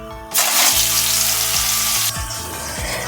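Chopped onion hitting hot oil tempered with five-spice seeds, a sudden loud, steady sizzle that holds close for about two seconds and then drops to a softer hiss, with faint low thuds underneath.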